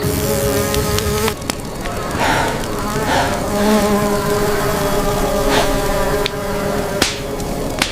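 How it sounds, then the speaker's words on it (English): A swarm of blood-sucking insects buzzes steadily and loudly, whining drones overlapping without pause, with occasional sharp ticks and crackles breaking through the dense hum. "Blood-sucking insects filled the prehistoric ecosystem in vast numbers."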